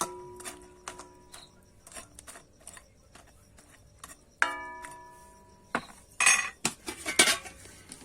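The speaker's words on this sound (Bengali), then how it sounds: "লুচিটা কিন্তু রসের মধ্যে দিয়ে দেবো দিয়ে কিন্তু একটু নেড়ে চেড়ে নেব" Carrot chusi pitha is stirred in sugar syrup in a metal pot, giving scattered metallic clinks and taps, some with a brief ringing tone, growing louder and busier toward the end, with no talk.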